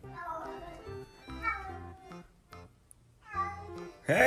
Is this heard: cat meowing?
yes